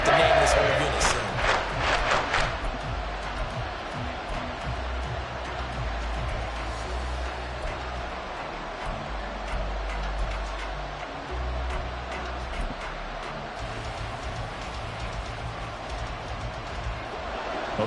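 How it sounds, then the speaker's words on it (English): A football stadium crowd roars in a broad, sustained wash of noise, with a burst of sharp claps or bangs at the start, while an announcer talks over it. "this crowd doing their best to make a lot of racket."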